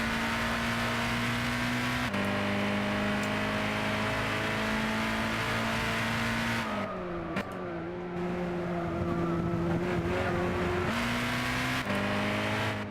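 A race car engine drones steadily through a lap in Gran Turismo, holding a high, sustained note with a few abrupt gear shifts and brief lifts around corners, loud and close.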